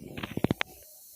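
Proclean washing machine cleaner fizzes like soda as it is stirred, giving a close run of short bubbly pops and crackles over about half a second before fading to a faint hiss.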